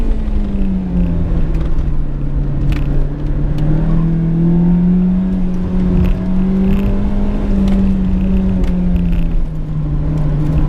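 A 1991 Nissan Silvia engine drones loud and close, holding a steady hum that rises and dips slightly as it revs, with no talking over it.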